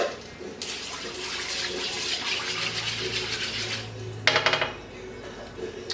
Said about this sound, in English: We're going to put our apple juice.